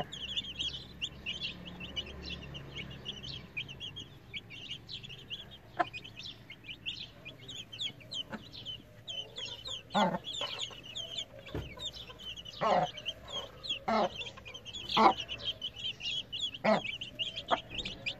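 One-week-old turkey chicks chirp in a busy chorus of high, thin peeps, continuous and close, with a few louder knocks and scuffles mixed in.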